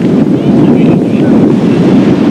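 Strong wind gusts batter the microphone outdoors at a sailing championship in Laval, a loud, continuous rumbling roar that stays dense and unbroken throughout.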